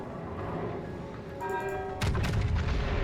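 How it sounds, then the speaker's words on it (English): Battleship main guns fire in a naval video game, a sudden heavy boom landing near the end after a steady low rumble of engine and sea, loud and close. "Secondary main guns are fired."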